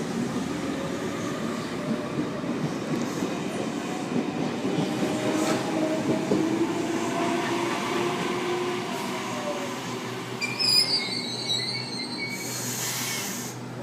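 A Sydney Waratah electric train departs platform 2 at Glenfield station, a loud, steady rumble of wheels and motors with a rising whine and brief high squeals near the end, heard up close.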